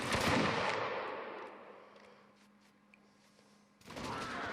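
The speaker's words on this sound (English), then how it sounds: "Turn and fire, and a lovely volley into the enemy of the RFB." Line infantry in a video game line battle fire a musket volley: a loud, crackling burst of many shots that decays over about two seconds into quiet, followed by another heavy burst of gunfire at the end.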